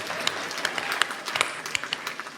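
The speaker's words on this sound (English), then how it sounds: "A clap for the man that didn't die." A live audience at a San Francisco podcast show claps, with a brief burst of scattered, sharp handclaps from a room full of people.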